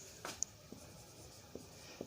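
Writing an answer on a board in a maths class, a few faint, spaced scratches and taps of chalk or marker across a quiet background with no talk.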